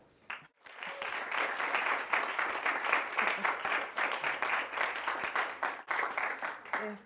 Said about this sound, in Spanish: Entonces recibámosla con un fuerte aplauso.